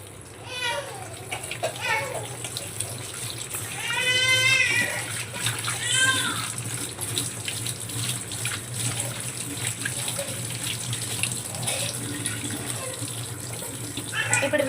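Tap water runs steadily while ingredients for palav are rinsed in a kitchen sink, a continuous splashing hiss under nearby talk and children's voices.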